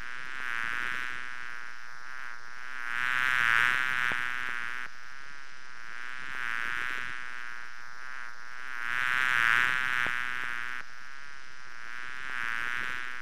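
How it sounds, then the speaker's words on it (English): Buzzing of honeybees in a steady droning hum that swells louder and fades in repeating waves, close and continuous with no voices. "Did you know that honeybees help pollinate all sorts of fruit and vegetables?"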